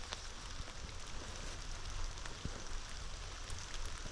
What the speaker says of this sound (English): because it's raining I can't hardly hear the creek